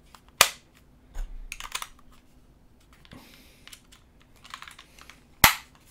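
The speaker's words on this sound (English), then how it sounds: "plug in this little battery here" A small battery is fitted into the back of an Xbox One controller with plastic handling noises, a loud sharp snap near the start, softer rattling clicks, and another crisp snap near the end.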